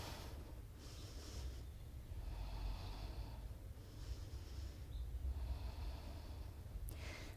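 Deep, slow breaths rush in and out during muscle effort in a hip flexion mobility workout, soft breathy swells repeating about every second or two, close and quiet, with no talking.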